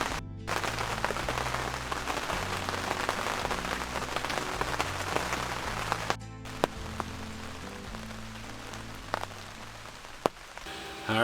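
Heavy rain pours onto a hunting blind tent during archery season, a dense continuous patter with occasional sharper drops striking the fabric close by, steady throughout with no voices.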